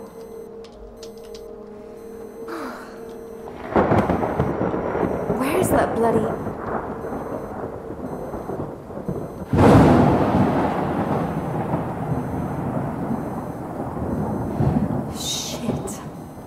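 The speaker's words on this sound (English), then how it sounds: "What a storm. After such a beautiful sunny day, it's proper raining now." Thunderstorm and rain in the video game Lorelai: a steady rain wash with heavy rumbling thunder bursts swelling up, loud and close, while someone talks over it.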